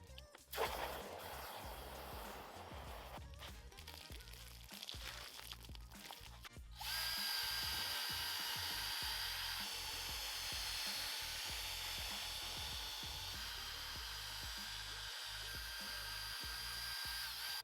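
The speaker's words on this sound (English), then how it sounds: "So now that they've been agitated enough with that drill brush" A steady, whirring power drill brush scrubs a mat up close, grinding on continuously and growing slightly louder and smoother partway through.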